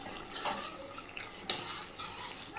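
Stirring a tomato, eggplant and potato curry in a pan, with soft scraping and wet stirring sounds and a sharper clink of the utensil against the pan near the middle, faint and close.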